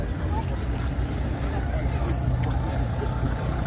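Steam engines running at an evening steam rally at Strumpshaw in 2023, a steady loud low rumble and chuffing mixed with distant crowd babble and voices.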